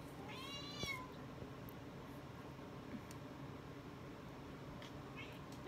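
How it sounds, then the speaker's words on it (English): A single cat meow rises and falls near the start, fairly faint against a steady background hiss, with no other clear sounds after. "Cat!"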